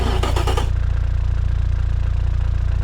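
Simulated Honda K24A1 inline-four in the Automation game cranking and catching, then settling into a steady, loud, low-pitched rumble with a dense harmonic drone and no voices.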